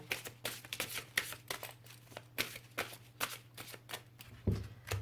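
Oracle cards riffled and shuffled repeatedly in quick irregular bursts, close and fairly quiet, with a faint steady hum underneath and a soft thump near the end.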